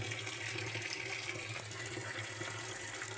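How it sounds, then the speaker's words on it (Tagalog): Water pours steadily into a drum being filled to water a vegetable garden of bitter gourd and string beans, a continuous rushing splash with a low hum underneath, close and unbroken throughout. "magkakarga ng tubig ka-farmer"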